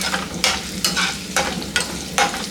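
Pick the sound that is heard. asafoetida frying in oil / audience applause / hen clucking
asafoetida frying in oil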